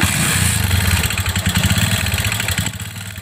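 A motorcycle engine idles with a fast metallic ticking rattle over a steady low rumble, loud and close, with no voices.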